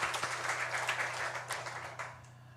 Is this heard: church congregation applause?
yes